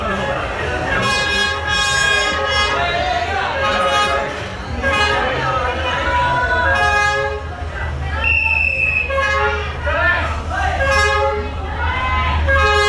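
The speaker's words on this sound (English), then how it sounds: "Here comes the train." A train rolls through the narrow Hanoi train street, its horn tooting repeatedly over a low rumble, with people talking and exclaiming nearby.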